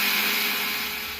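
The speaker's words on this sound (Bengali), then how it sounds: "চলুন আমি এই পোস্তটাকে মিক্সার গ্রাইন্ডারের সাহায্যে ভালো করে একটা মিহি পেস্ট বানিয়ে নিই।" A mixer grinder whirs at high speed while grinding poppy seeds into a fine paste, giving a loud, steady, bright motor and blade noise that eases off slightly toward the end.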